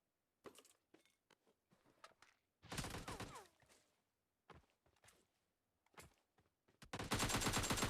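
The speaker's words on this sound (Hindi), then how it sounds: "अब इसको मारने के बाद मुझ पे एक और फायर होता है" Automatic gunfire in PUBG Mobile Lite: several short bursts and scattered shots, with one long rapid-fire volley in the middle and another dense burst at the end, loud and alone.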